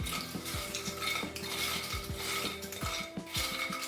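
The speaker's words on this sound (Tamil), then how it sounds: "கொஞ்சம் சூடாக இருக்கும்போது இதெல்லாம் நல்லா போட்டு மிக்ஸ் பண்ணோம்னா அந்த ஸ்பைசஸ் எல்லாம் நல்லா மிக்ஸ் ஆகும்" Freshly fried rice flour chips are tossed with salt and pepper in a metal bowl, giving repeated close clinks and scrapes of a spoon against metal, with a dry rustle of chips between strokes.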